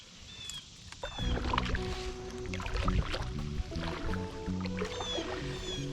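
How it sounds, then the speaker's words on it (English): A kayak paddled across water while bass fishing with a topwater lure: steady, close paddle splashes and dripping strokes with a fairly constant rhythm, no talking. "So as I'm paddling along"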